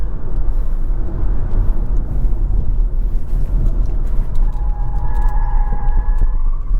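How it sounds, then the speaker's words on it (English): A 2022 Kia EV6 electric car with a rear-wheel-drive motor accelerates and corners hard in sport mode with traction control off. A steady road and tyre rumble carries a rising motor whine that appears near the end, with no talk. "Good acceleration from that rear-wheel drive motor."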